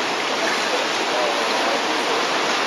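A tsunami surges into Matsukawaura, heard as a continuous broadband roar of rushing water, loud and unbroken from start to finish.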